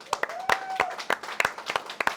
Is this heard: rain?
no